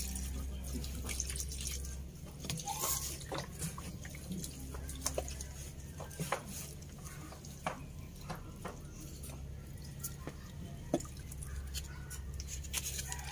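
Collected rainwater pours from a container onto a braided money tree in a pot, a soft steady trickle with scattered drips and splashes, faint and close, with no voices.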